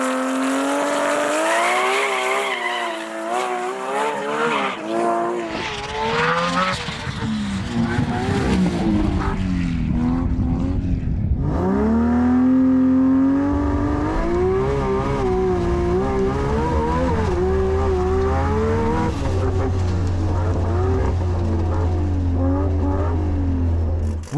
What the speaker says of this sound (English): MSM Jet was out next for its third run of the day, but the car just didn't want to be tamed.